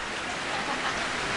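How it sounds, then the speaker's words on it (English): Heavy typhoon rain in the Philippines pours steadily as a dense, continuous hiss, loud and close, with no pauses and no voices. "I hope the rain stops."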